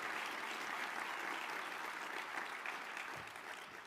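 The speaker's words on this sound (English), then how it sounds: "Let's give one last round of applause for these awardees" Audience applause for military awardees at an Army association symposium, steady dense clapping from a large crowd, tapering slightly at the end.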